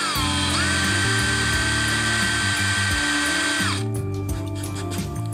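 A power drill fitted with a countersink bit whines at a steady high pitch while cutting into polycarbonate plastic, then winds down and stops, leaving softer background noise.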